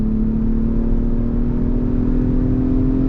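A 2022 Lexus ES 350 F Sport sedan accelerating onto a highway, heard from inside the cabin as a steady, loud, rising engine drone under the throttle, with no talking.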